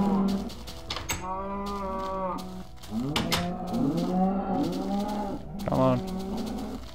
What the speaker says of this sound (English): I got a cow that wants to come and hang out with his buddies